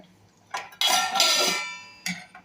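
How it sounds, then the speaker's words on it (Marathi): A metal lid settles onto a cooking pot: a light clink, then a loud ringing clatter that fades, followed by another short metallic tap. "आता झाकण ठेवूया"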